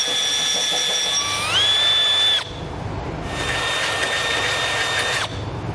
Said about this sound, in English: come back with a smaller drill bit and drill a pilot hole